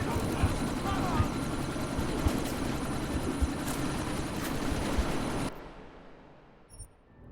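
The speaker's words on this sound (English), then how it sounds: "you need to disable that chopper" An enemy helicopter circles during a sandstorm in Deus Ex: Mankind Divided. Its loud, continuous rotor and engine drone with faint thumps ends abruptly, leaving a quieter room tone.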